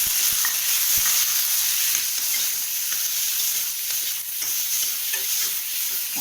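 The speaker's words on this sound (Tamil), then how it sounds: "இப்போ வெங்காயம் தக்காளி வணங்கிடுச்சு." Onions and tomatoes sauté in a pan for a mushroom gravy. A continuous bright sizzle and hiss runs throughout, with soft stirring clicks and scrapes close by and no voices.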